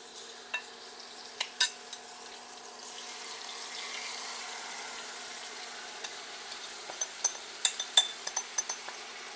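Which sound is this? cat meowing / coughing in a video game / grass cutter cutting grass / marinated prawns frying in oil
marinated prawns frying in oil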